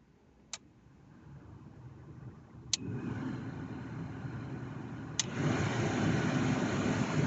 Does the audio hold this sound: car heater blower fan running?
yes